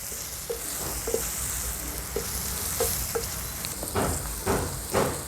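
Onion with turmeric and homemade Agri Koli masala stirred and frying in oil over a wood-fired chulha, a steady sizzle with repeated scraping stirs that grow louder toward the end, no voices.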